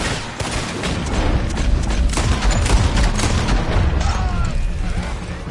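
Heavy gunfire in a video game battle, a loud continuous fusillade of overlapping shots and booms with shouting voices mixed underneath.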